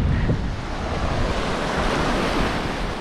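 Ocean waves roll in steadily on Lanca Beach near Cape San Agustin, a constant wash of surf with wind buffeting the microphone throughout, no voices present.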